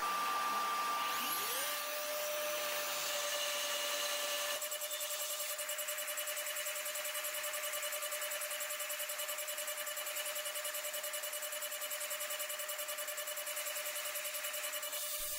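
A CNC machine mills step blocks, machining from both sides with a short tool, giving a steady, continuous whine with a sustained tone that holds for the whole stretch after a rising start, close and loud, with no talking.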